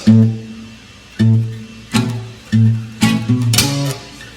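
Reggae guitar strumming with a percussive slap added to the chord stroke and mute. A steady run of chord hits is followed by a quicker cluster of chops and a bright slapped accent near the end, with no voice.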